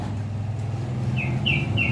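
Soft zebra dove calls, a few short repeated coos, sound in the distance over a low steady background rumble.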